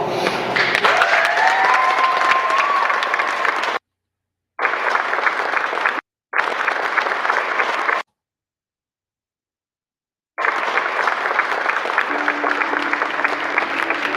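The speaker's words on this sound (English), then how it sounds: "Oh, there was clapping." Applause from a wedding crowd after the couple's kiss, a steady wash of many hands clapping that runs loud for several seconds, cuts out twice, then returns for the final few seconds.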